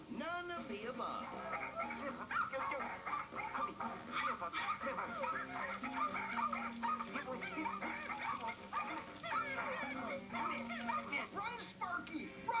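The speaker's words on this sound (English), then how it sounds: "stealing championship little baby terriers" Small championship terrier puppies yip, whimper and bark in a busy, continuous stream, mixed with people talking over them.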